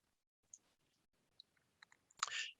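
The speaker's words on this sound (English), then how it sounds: "as we click on the map" Sparse, quiet mouse clicks on a map in the ArcGIS web app, a few isolated soft taps followed by a louder burst of clicking and rustle near the end, with no talking.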